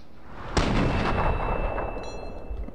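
A single sharp rifle shot rings out in Fallout 3, a loud crack followed by a long rumbling echo that slowly fades.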